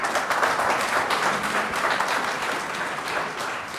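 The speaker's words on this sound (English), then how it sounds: "I already know some people will clap anything." Dense, steady applause from an audience at a debate, many hands clapping together loudly and continuously throughout, with no talk over it.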